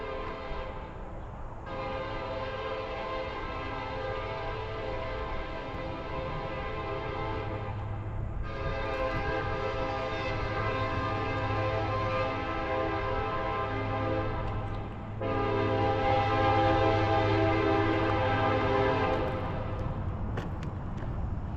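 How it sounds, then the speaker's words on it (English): A train rolls through a small Illinois town on Route 66, its horn blaring in long sustained blasts with brief gaps, loud and steady over a low rumble throughout, no talking. "Old town feeling with the train coming through, blaring the horn."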